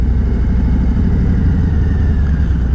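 Motorcycle engine running low and steady while looking for parking at a bike rally, a continuous close rumbling idle with no talking.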